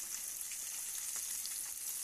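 Fish frying in a pan hisses and crackles with a steady, bright sizzle and small popping bursts, continuous and fairly quiet, with nobody speaking.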